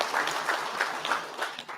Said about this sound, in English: Round of applause for the Minister of Finance, Economic Development.